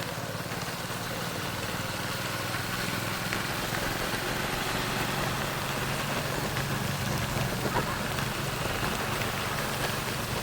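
A sudden downpour in Sankanai, Jaffna, falls as steady, dense rain drumming on surfaces, loud and continuous for the whole stretch with a faint engine-like rumble underneath and no speech.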